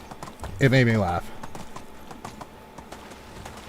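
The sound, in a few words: horse hooves clip-clopping in video game Medieval Dynasty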